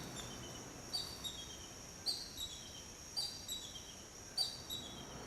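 A hawk, a bird of prey, calls four times at roughly one-second intervals, each a faint, high, descending whistle heard from a distance over quiet outdoor ambience.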